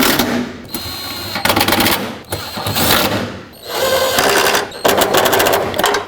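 Mounting bolts on a Honda Fit wiper transmission being driven in with a power tool, loud whirring bursts of several seconds each, close up with no talking.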